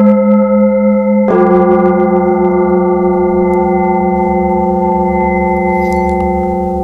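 A bell plate is struck once with a mallet, giving a loud clear metallic ring that swells in over an already sounding tone and sustains for several seconds, slowly fading.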